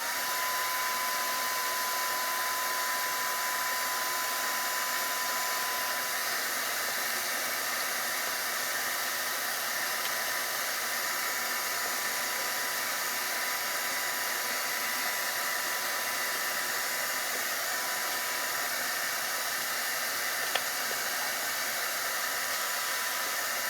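A vacuum cleaner sucking up a mess of tiny metal chips in an armor-making workshop, giving a steady, loud, unbroken whoosh that runs for the whole stretch with no talking over it.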